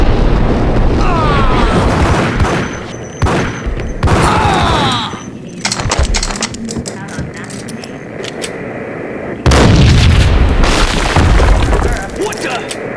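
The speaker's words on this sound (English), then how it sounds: "I thought it was a bomb for sure" Heavy booms and blasts erupt in the video game Max Payne, loud and rumbling, a second big explosion landing near the end amid crackling debris and intermittent gunfire, with voices speaking over parts of it.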